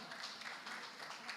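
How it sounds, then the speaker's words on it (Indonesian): Audience applause at an HKBP Cijantung church youth Ucok Butet competition, a steady, faint wash of clapping with no clear breaks, sounding somewhat distant. "Tepuk tangan dulu dong."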